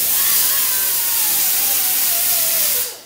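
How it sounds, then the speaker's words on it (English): A metal grinder blade runs against metal in a continuous high, harsh whine with a slowly falling tone, loud and close, ending abruptly. "With the metal grinder blade."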